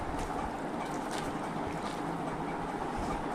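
Water squeezed out of salted, mashed cabbage is poured away in a steady, close rushing splash that lasts a few seconds without letting up.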